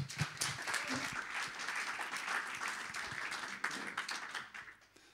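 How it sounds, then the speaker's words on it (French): An audience applauds steadily as an entrepreneur and horse rider is welcomed to the stage at an equestrian innovation talk, with dense sustained clapping that fades toward the end and no one speaking. "Je vous demande d'applaudir un cavalier et un entrepreneur"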